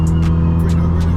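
A Stage 3+ Subaru WRX STI drones steadily from inside the cabin with a deep, loud exhaust hum, and short bursts of turbo hiss and whoosh come in repeatedly through the run.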